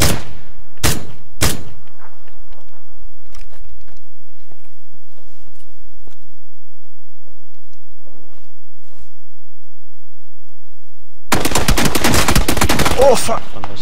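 Three sharp gunshots ring out in PUBG, followed by a long near-silent stretch, then a loud burst of rapid automatic fire at the end.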